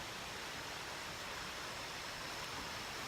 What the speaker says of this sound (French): je vous remonte la rivière qui est vraiment belle